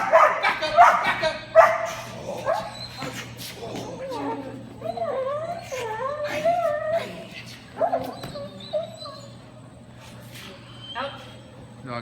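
A nine-month-old sable German Shepherd in protection training gives a string of barks and strained, whining yelps, loud and close at first, then more broken up, with a person talking at times over a low steady hum.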